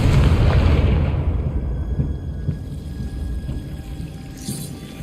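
A Confringo fire-blast spell in the Hogwarts Legacy game strikes with a loud, rumbling burst at the start, then decays into a long crackling tail that fades over several seconds.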